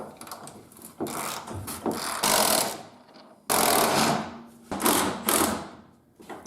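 A ratchet loosens crusty body mount bolts on a Jeep Wrangler YJ, giving several loud bursts of rapid clicking ratcheting, each lasting about a second, separated by short pauses, close up with no talking.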